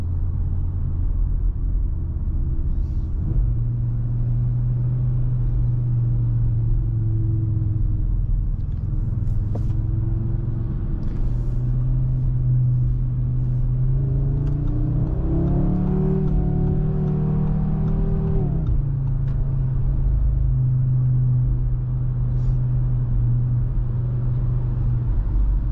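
An Audi RS3 Sportback drives and corners, its engine a steady low rumble that swells briefly mid-way with a rising note, then settles back to a smooth cruising drone, heard from inside the cabin with no talk.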